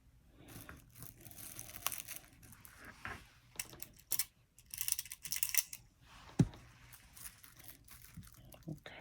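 Scissors cutting around pinned, folded quilting fabric: close, irregular snips and crunchy shearing in bursts, with handling rustle between cuts.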